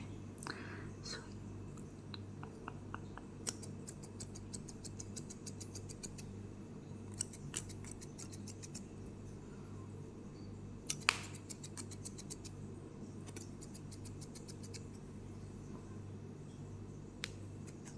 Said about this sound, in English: I will just mainly use my irregular scissors